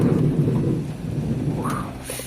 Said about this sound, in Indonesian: Jadi masih hujan ya.